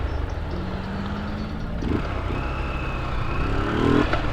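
A Honda CG 125 Cargo motorcycle engine runs without its intake hose, a loud steady rumbling idle with a couple of short throttle blips, recorded up close with no talk.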